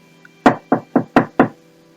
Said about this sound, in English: It is just someone knocking at my door, nothing more.